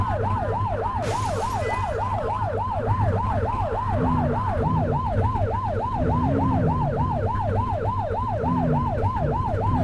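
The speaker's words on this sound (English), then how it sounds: "Turn that siren off." A wailing police siren from a video game police car rises and falls in a steady, continuous cycle throughout, loud and close over a low engine drone, with no voices.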